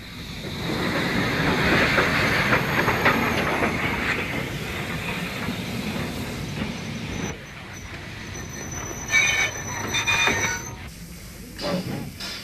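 Steam train on the Kent and East Sussex Railway, a preserved standard gauge line, rolling steadily with rhythmic wheel clatter over rails, brief squeals and hissing bursts toward the end, moderately near and heard alone.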